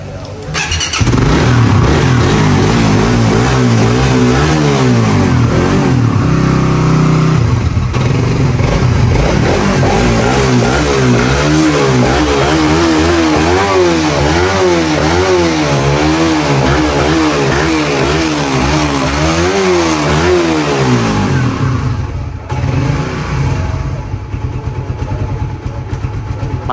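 A 2017 Suzuki Satria F150 motorcycle engine starts and revs repeatedly up and down, loud and close, with rising and falling pitch sweeps, then drops back toward idle near the end.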